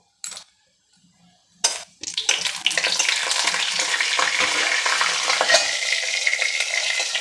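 Spices and cardamom frying in hot oil and ghee in a pan, a couple of brief pops followed by a steady, loud crackling sizzle with sharp spatters throughout, close up and with no talking.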